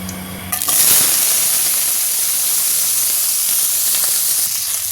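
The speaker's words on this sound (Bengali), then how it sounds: "কড়াই তেল দিয়ে দিলাম এবার ফুলকপিটাকে লাল লাল করে ভাজবো" Cauliflower hitting hot oil in a kadai wok, setting off a sudden loud, bright sizzle and hiss that stays strong and continuous after a brief quiet start.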